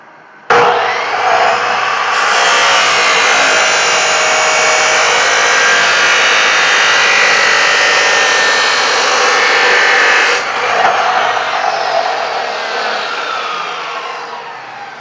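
A power saw cuts steel side pieces to length for a coal forge, giving a loud, continuous, close grinding whine that holds for about ten seconds and then tapers off.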